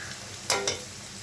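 Fried potatoes in a pan, ready for eggs to be added, give a faint steady sizzle, with a brief scraping stir partway through.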